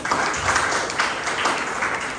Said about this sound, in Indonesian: Kasih tepuk tangan Tuhan